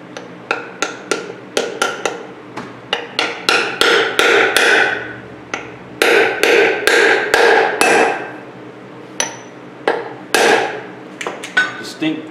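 A hammer taps an aluminum disc to seat a seal on a GMC W4500 Isuzu NPR, a long run of sharp metallic strikes, some in quick bursts, some spaced, loud and close.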